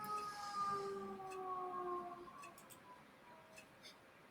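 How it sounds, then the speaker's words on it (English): A faint, wavering siren whine holds steady tones for a couple of seconds, then fades away, leaving quiet background noise with a few soft clicks. "Well, was it the siren?"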